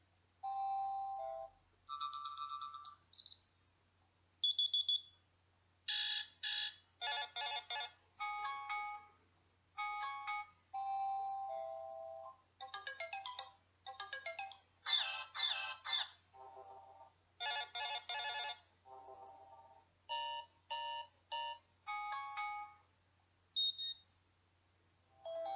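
Phone morning alarm ringtone: a melodic electronic tune of short bright beeping notes in repeated phrases, playing alone and moderately loud with brief pauses between bursts.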